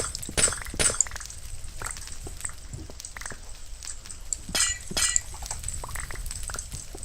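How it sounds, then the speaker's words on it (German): Blocks of glass shattering in the Minecraft video game, a few sharp clinking breaks spaced across the clip over a quiet background. "Ich liebe das Geräusch. Ich mache gerne Glas kaputt in dem Spiel."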